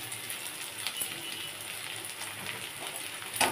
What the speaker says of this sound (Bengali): আদা আর রসুন একসাথেই দিয়ে দিলাম